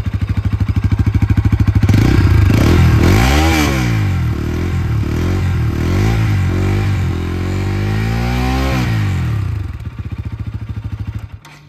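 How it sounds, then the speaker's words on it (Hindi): A 2023 Bajaj Pulsar NS 200 motorcycle with an unwrapped exhaust idles loudly, then revs repeatedly in rising and falling sweeps before settling back to a steady idle, close and alone with no talk. "तो ये भाई आपने चेक कर लिया इसका एग्जॉस्ट साउंड, थोड़ा सा क्लासी टाइप का है, ओल्ड NS टाइप का है"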